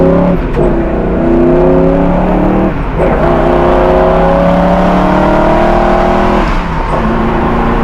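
A 1968 Camaro SS drives down the road, its V8 engine droning loud and close from inside, pitch climbing through the gears with brief dips at each shift.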